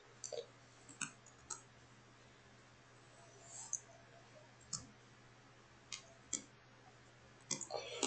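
Sparse clicks and taps close by, faint and irregular, from typing on a computer keyboard in a quiet room with a low steady hum underneath.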